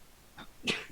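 A single quiet, short sneeze with a brief intake before it, heard faintly and alone.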